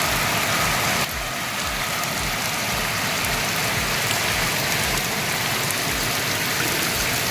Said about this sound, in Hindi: बड़े बड़े बूंद के बारिश होते हैं।